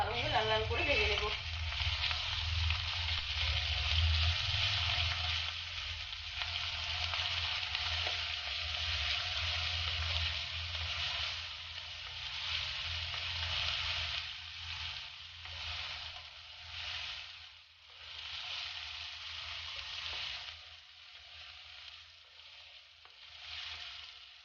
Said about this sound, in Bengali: এরপর এগুলো একটু ভালোভাবে লাল লাল করে ভেজে নেব।